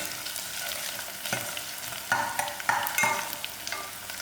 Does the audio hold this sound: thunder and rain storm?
no